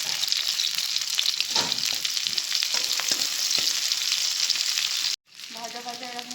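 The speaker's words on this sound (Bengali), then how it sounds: "পেঁয়াজটা ভাজা হবে এখন।" Sliced onions sizzle steadily in a hot pan, a bright continuous hiss broken by a few stirring scrapes, then a short cut before the frying resumes more quietly.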